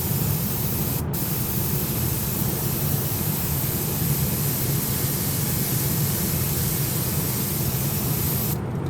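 A spray can or airbrush lays a second coat of paint on a model ship, giving a steady, close hiss that runs unbroken for the whole stretch with brief pauses in the spray near the start and end.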